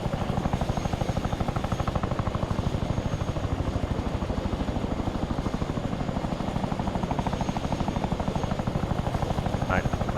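Steady rotor thump and turbine roar of a Chinook helicopter in the military game Arma 3, loud and continuous throughout, with a faint voice under it.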